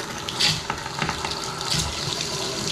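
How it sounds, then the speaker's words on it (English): Water running steadily from a newly installed bathroom vanity faucet with the aerator removed, a continuous hissing splash into the sink, close and fairly loud with no voices. "Flush some water"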